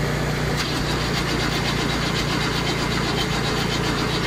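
An old Chevy engine cranks on a cold start, a loud, steady, rapid starter-motor churning heard close up without catching, running continuously.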